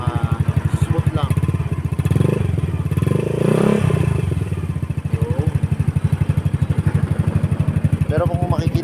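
A Yamaha Mio Gravis 125 scooter motorcycle idles with a steady close-up engine pulse, then revs up briefly before settling back, while someone talks over it.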